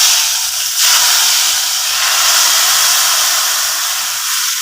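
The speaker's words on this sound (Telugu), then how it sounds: "తాలింపు పెట్టేసుకుంటున్నానండి" Hot tempering with curry leaves and asafoetida poured into sambar, a loud, close, hissing sizzle that bursts in and holds steady throughout.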